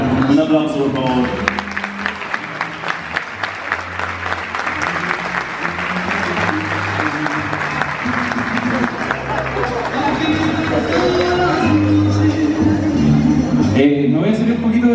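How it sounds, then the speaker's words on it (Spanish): Applause from a crowd at a school music festival honouring a musical group, continuous clapping with background babble and music-like tones mixed in throughout. "Un aplauso, por favor."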